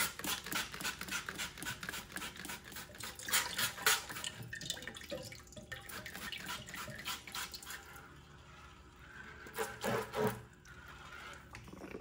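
Hot water running from a tap in a home workshop setup, a steady close stream with dripping and splashing that wavers in strength, no voices.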